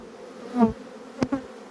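Honey bees buzz around a hive entrance during colony merging, a low steady drone broken by a few individual bees passing close by, loud and clear without speech.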